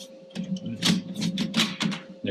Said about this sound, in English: the printer is actually going to start doing 4 test prints